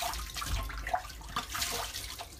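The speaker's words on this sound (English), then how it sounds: "now I'm going to wet my face. I already have a basin of water." Water splashes and sloshes from a basin as hands scoop it onto a face, a steady wet patter with small drips, close and fairly loud, with no talking.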